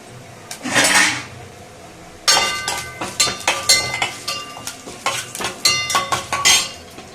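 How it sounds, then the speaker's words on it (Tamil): Mustard seeds crackle and pop sharply in hot oil, a quick irregular patter of bursts with some clinking from a nearby pan. "இப்போ நான் எண்ணெய் காஞ்சிருச்சு கடுகு போடுறேன்"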